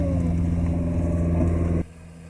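A 2002 Gem electric golf cart drives with a steady motor whine and road rumble, then abruptly quiets as it brakes near the end.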